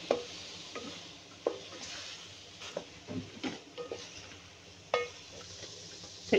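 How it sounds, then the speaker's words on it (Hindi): Eggplant frying in ghee in a pan for an arvi baingan salan: a soft, steady sizzle with irregular clinks and scrapes of a spoon against the pan as it is stirred, close by. "मैंने बैंगन को थोड़ा सा इसमें भूनना है 2-3 मिनट"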